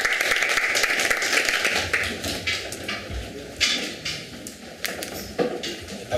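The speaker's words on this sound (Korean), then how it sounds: "네, 큰 박수로 맞아주시기 바랍니다." An audience at a business conference applauds in a steady wash of many hands clapping, moderately distant, with no talk over it.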